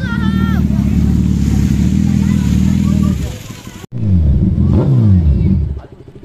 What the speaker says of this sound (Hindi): तो भाई अपनी बाइकें आ रही हैं